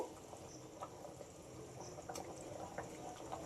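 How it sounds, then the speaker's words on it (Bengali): Curry gravy for an egg and potato dish boiling in a pan, a quiet, steady bubbling simmer with soft pops and gurgles, close and alone. "ঝোলটা খুব ভালো রকমই ফুটে গেছে।"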